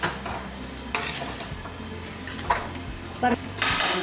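A mixture is stirred in a pan over a slow flame in a home kitchen, with soft sizzling and intermittent scrapes and clinks of a utensil against the pan while a voice speaks.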